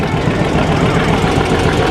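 A Farmall Cub tractor engine runs steadily at idle, a loud continuous low rumble with a slight knocking texture and no other sounds.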